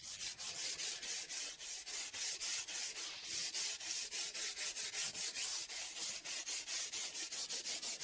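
Rhythmic back-and-forth rubbing as cleaner is worked into a worn car door sill with 220,000 km of wear, a steady scrubbing stroke roughly three times a second, close and fairly loud, with no talking.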